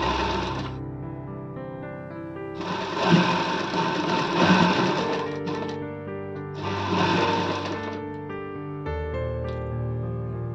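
Sewing machine stitching a blouse, running in three distinct bursts of fast, close mechanical whirring, with quieter gaps of low hum between them.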